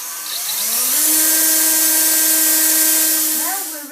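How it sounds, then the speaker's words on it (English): A power drill bores a small hole in the corner of a wooden go-kart part for a cable. It gives one sustained whine that rises in pitch as it spins up, holds steady, then winds down. "you have to drill a little hole in the corner so the cable can go in"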